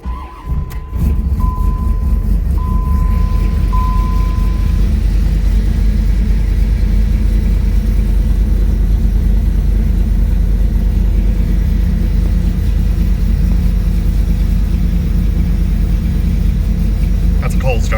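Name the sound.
Gen 2 LT1 turbo car engine cold start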